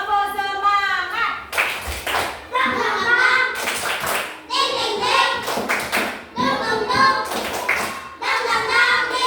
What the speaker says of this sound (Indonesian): ayo kita tepuk semangat dulu ya